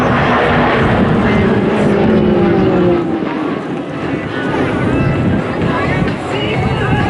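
An aircraft in an airshow display roars past with a loud, broad engine rush that fades slightly midway, while a commentator talks over the noise throughout.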